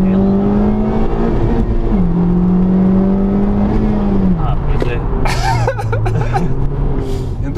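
A Honda Civic Type R FK2 turbo engine pulls hard from inside the cabin, its steady drone rising through each gear before dropping at shift points, loud and continuous under occasional cabin noise.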